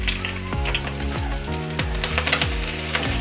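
Crushed ginger, garlic and green chillies frying in hot oil, with a loud, close, steady sizzle and repeated spatula knocks and scrapes against the pan, with no voices.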